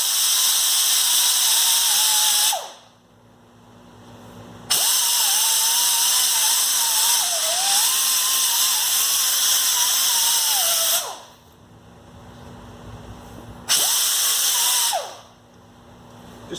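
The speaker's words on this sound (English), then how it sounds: "we're just going to take a little die grinder, clean up those areas a little bit." A die grinder works on a Jeep TJ Wrangler wheel hub, its loud high whine running in long bursts with pitch dips under load, stopping and restarting three times with brief quiet gaps.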